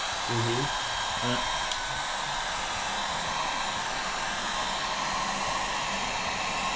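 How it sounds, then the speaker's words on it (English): A heat gun on its mildest setting blows a steady, loud rush of hot air with a high whine over drum heads, while a voice briefly talks near the start. "So the heat gun has got a few settings."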